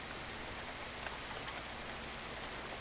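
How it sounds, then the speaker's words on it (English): Rain patters steadily on the tin roof of a four-berth caravan, a dense, even hiss of tiny taps heard alone and fairly quiet. "It's raining again."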